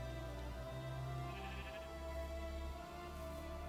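A Minecraft sheep bleats faintly in the background of the blocky video game, under a steady hum of game ambience and music.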